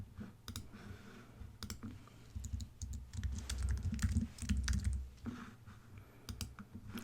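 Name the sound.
typing and clicking on a computer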